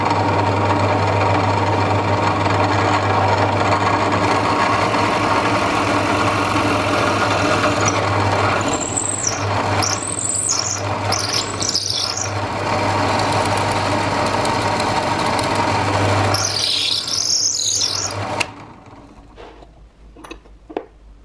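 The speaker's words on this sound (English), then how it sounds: "And let's drill this." A wood lathe runs with a steady mechanical hum while a drill bit grinds into a wooden keyring blank in several squealing passes, then the motor winds down and stops.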